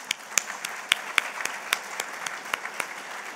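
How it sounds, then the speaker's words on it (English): Thin, scattered clapping from a modest audience at an annual awards luncheon, individual claps distinct and somewhat distant, with a faint murmur of voices underneath. "Applause to them."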